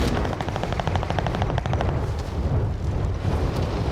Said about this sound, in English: Sounds like there's shots on this one that you marked.